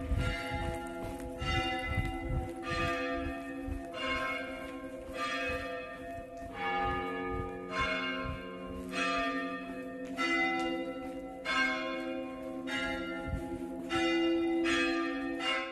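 Tortosa cathedral bells peal repeatedly in a steady, insistent rhythm, strong ringing strokes overlapping with a sustained hum of resonance, loud and alone without voices.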